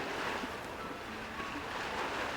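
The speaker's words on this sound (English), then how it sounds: "why do I hear waves on your end?" Ocean waves heard over a phone call in a video game make a soft, steady wash of surf and wind, faint and distant.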